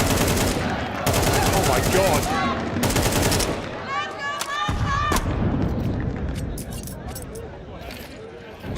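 Rapid pistol fire and bursts of gunshots from Counter-Strike 2 in a professional esports quarterfinal match, with Falcons players firing pistols through a cave area, heard under loud, excited commentary.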